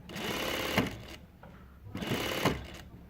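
A Juki DDL-8700 industrial sewing machine with a servo synchronizer runs in two short, loud bursts, each ending in an abrupt stop with the needle down and a brief quiet between runs.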